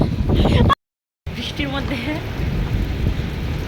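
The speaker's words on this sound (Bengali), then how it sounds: "ভালোই বৃষ্টি হচ্ছে এই যে" Heavy rain pours onto a rooftop as a dense, continuous wash of noise, briefly cut off by a gap of silence, while a person speaks over it.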